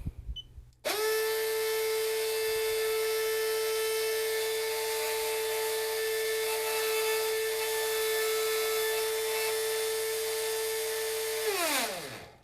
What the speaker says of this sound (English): All right, we're starting with the OEM motor.